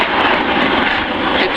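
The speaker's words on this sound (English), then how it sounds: "in a moment he's going to put the power on and accelerate" Aircraft engines at the Cosford air show in 2013, a loud, steady broadband roar held throughout at close range as the power comes on, with no talk over it.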